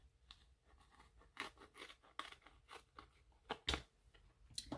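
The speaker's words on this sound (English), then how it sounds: "I'm gonna use my scissors to complete the cut" Scissors make soft, uneven snips and crunchy cuts close by, a series of short bursts with brief pauses, fairly quiet with no talking.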